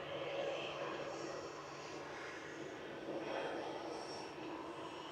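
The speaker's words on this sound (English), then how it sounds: "Oh, what a departure that A380 was" An Airbus A380 departs Manchester Airport, its engines a steady, broad roar that holds loud and even throughout, swelling slightly near the start and again toward the end.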